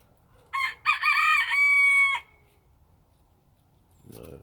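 A rooster on a small homestead gives one clear, full cock-a-doodle-doo crow lasting under two seconds, close and loud, followed by quiet and then a brief low murmur.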